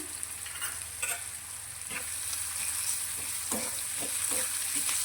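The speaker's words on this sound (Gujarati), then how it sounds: "આ ડુંગળીને આપણે સારી રીતે સાંતળવાની છે" Chopped onion, garlic and ginger sautéing in a pan for a Punjabi-style vegetable dish, a steady close sizzle with scattered crackles and pops and no voices over it.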